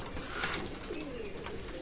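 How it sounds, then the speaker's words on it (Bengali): Teddy pigeons of Oman bloodline at a loft coo softly against a steady background hiss, with low throaty calls rising and fading through the clip. "একজোড়া চমৎকার ব্লাড লাইনের ওমান ব্লাড লাইনের টেডি কবুতর আছে"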